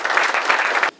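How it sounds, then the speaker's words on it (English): A short burst of graduation-ceremony applause from a crowd, steady and full for under a second before cutting off abruptly. "So if you'll give them an amazing round of applause."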